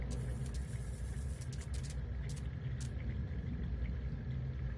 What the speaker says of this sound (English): Ooh, thunder boomers.